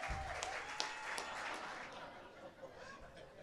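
A comedy club audience claps steadily throughout, sounding faint and distant with a soft, even texture and no voices on top.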